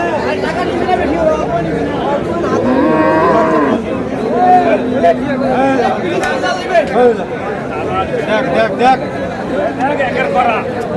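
Cattle, including cows with calves, moo repeatedly amid a busy crowd at a livestock market (haat) in Ambari, with people talking and calling prices over the lowing animals.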